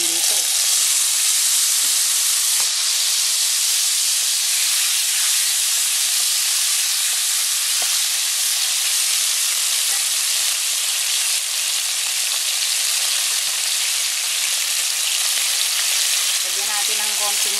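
Sauce poured into a pan of tilapia fish steak sizzles and hisses loudly and continuously, a dense bright frying sound that holds steady with little change throughout.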